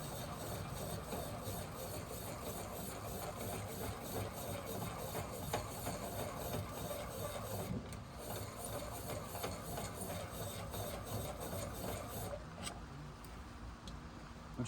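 A hand-crank piston ring filer is spun to gap a ring for a turbo F150 engine. A faint, even grinding whir runs continuously with a steady rhythmic texture and no voices.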